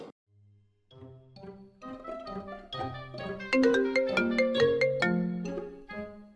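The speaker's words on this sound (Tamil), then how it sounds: "Pass phone." A phone ringtone plays a bright melodic tune on its own, starting softly and swelling louder as it continues ringing for several seconds, close by.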